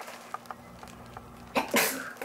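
A single sharp sneeze bursts out near the end after a few faint soft sounds, close and sudden against a quiet background.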